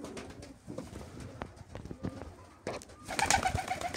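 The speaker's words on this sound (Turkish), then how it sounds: "Kuşlarımız bunlar arkadaşlar." Van high-flyer pigeons coo close by, soft repeated throaty calls over shuffling and flapping noises, with a brighter burst of bird sound near the end.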